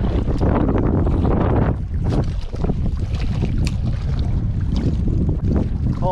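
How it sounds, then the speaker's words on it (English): Strong wind buffets a small fishing boat out on the water during a morning microjigging trip, a loud, continuous roar of gusts hitting the microphone. "Oh, this wind is nice and warm."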